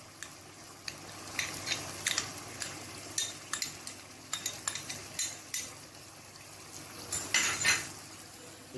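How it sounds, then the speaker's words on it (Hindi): A spoon stirs chopped tomatoes into chicken karahi in a pot, giving intermittent scraping clinks and soft wet sloshing, fairly close and alone. "इसको हम अच्छी तरह मिक्स कर देंगे टमाटरों को"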